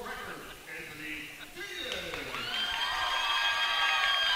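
The home crowd at the Henlopen Conference wrestling championships in the Milford High gym cheers, rising from a low murmur to a sustained, loud roar of shouts and whoops.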